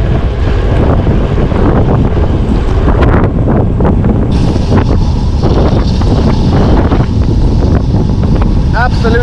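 Strong wind buffeting a microphone on a winter bike ride past Parke's Castle in deteriorating, rainy weather, producing a loud, constant roaring rush with gusty fluctuations throughout.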